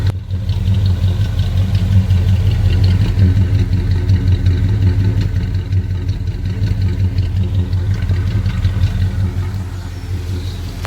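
A 1986 Ford F250 pickup with true dual exhaust idles with a deep, throaty exhaust rumble, steady and loud throughout, with a slight lope and no voices.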